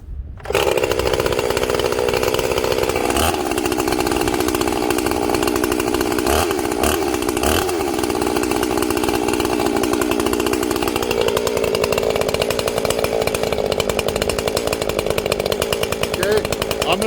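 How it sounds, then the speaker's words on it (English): A ported chainsaw engine fires up on full choke and settles into a warm-up idle, a loud, continuous close buzzing drone that shifts pitch partway through. "I'm going to fire this power saw up and I'm going to let it warm up."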